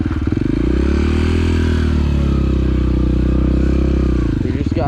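An enduro motorcycle rides over a log on a beginner enduro-cross course. The engine drones loudly and closely with a pulsing beat, its pitch swelling and dropping as the bike goes over the obstacle.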